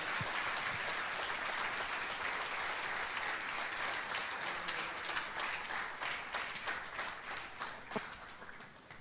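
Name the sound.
congregation applauding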